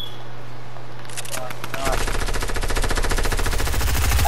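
Rapid automatic gunfire from the video game Fortnite bursts in after a quiet stretch and keeps rattling loudly and evenly to the end, with voices chatting briefly beforehand.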